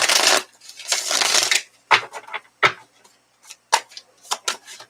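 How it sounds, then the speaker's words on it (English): Tarot cards being shuffled by hand, heard close up as two long riffling rustles followed by a series of short crisp snaps and flicks as the deck is handled. "So I'm just going to shuffle these and I'm just going to pull cards"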